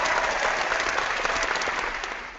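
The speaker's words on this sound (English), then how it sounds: "let's have a moment to applaud" Steady applause from a small audience at a comic book podcast recording, dense clapping filling the whole stretch and tapering slightly at the end.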